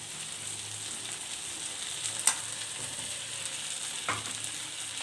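Chopped tomato fries in a pan with a continuous even hiss, broken by a couple of light utensil clicks, with no voices.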